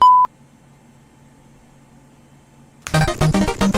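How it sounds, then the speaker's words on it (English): An answering machine gives a single short, clear high-pitched beep, followed by near silence with a faint hum, then a voice begins speaking. "Leave your message after the beep."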